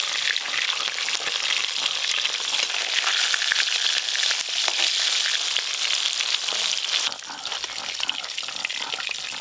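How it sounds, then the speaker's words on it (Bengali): Puti fish frying in oil, a loud, dense and steady crackling sizzle close up with a bright spattering texture that eases slightly near the end, no voices. "সব পুঁটি মাছগুলো এইরকম লাল লাল করে ভেজে নিয়েছি।"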